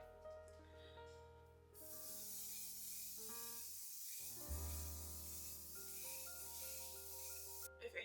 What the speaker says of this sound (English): you need to hold your breath before you spray this because you will choke if you inhale